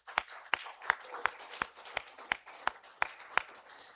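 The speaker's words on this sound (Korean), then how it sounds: "우리 다음 세대 자녀들 위해서 격려의 박수 한번 하겠습니다." A church congregation at a Sunday morning service applauds, sharp claps standing out in a steady rhythm of about three per second over a softer wash of clapping from a large room.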